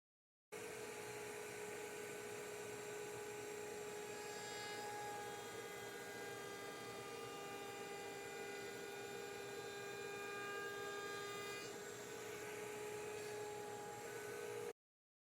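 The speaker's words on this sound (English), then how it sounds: "here's what that looks like in real time with the router on" A router on a router table runs at speed while cutting wood: a steady, high-pitched motor whine with a strong tonal hum. The whine changes slightly partway through, and the motor stops abruptly at the end.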